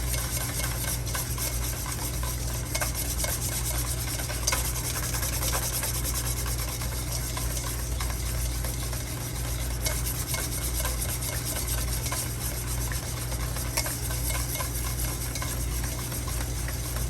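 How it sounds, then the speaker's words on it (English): A whisk beats oil into homemade mayonnaise in a bowl, giving a steady, continuous rubbing and scraping that stays close and fairly loud from start to finish, with no talking. "hold the bowl, give it a good whisk, make sure everything's nicely incorporated"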